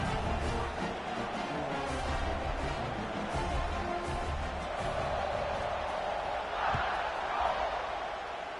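A stadium crowd in the NCAA College Football 26 video game makes a broad, sustained roar that swells slightly near the end, with indistinct voices mixed in.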